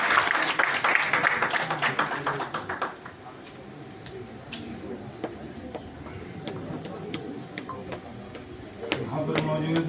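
An audience at a book launch gives a burst of applause to welcome a speaker; the clapping is loud at first, then fades under a voice.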